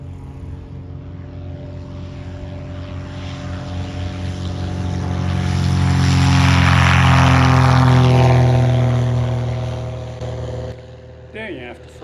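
A glider tow plane's propeller engine drones from a distance, swells to a loud pass overhead and fades away again, with a few brief noises near the end.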